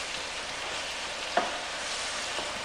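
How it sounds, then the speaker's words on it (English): Risotto rice cooking with wine in a pan gives a soft, steady sizzle with faint scraping as it is stirred, one small clink partway through; quiet and close, no talking. "keep stirring it through until the wine burns off and is absorbed by the rice"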